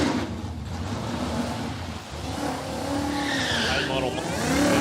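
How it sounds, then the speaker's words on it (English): A supercharged late-model drag car launches at Palmyra Dragway. Its engine roar and tire squeal build steadily over a few seconds, loud and close, and a voice can be heard partly over it. "Late model with a supercharger on."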